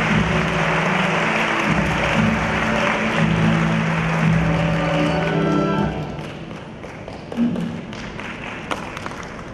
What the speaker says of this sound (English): please welcome Mr. President Lee with a big round of applause